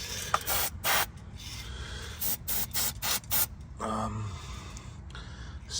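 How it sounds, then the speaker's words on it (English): Maintenance spray is applied to the rusty caliper bolts of a 2020 Renault Master's rear brakes in a series of short, sharp hissing bursts at close range, broken by faint mechanical rattles and clicks. "Spray the bolts holding the caliper on"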